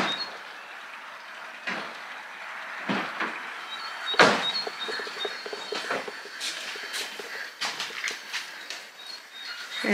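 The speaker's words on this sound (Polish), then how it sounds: "Ale coś się nie chce szyba podjechać." A frameless car door's electric power window motor strains to raise the glass, giving repeated whirring pulls with short clicks and thumps against a steady outdoor background. It sounds close and fairly quiet, with no talking.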